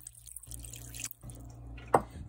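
Water being poured over salted chicken pieces to soak them, with soft, close trickling and splashing that ends in a brief, sharper splash near the end.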